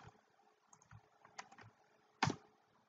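A computer keyboard with a few scattered keystrokes and clicks, sparse and fairly quiet, ending in one sharper louder tap, with no voices.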